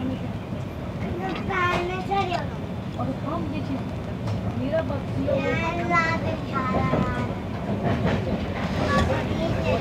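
A passenger train running from Delhi to Haridwar, with a steady rumbling rolling noise and clatter filling the carriage while people talk over it throughout.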